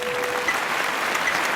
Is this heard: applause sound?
yes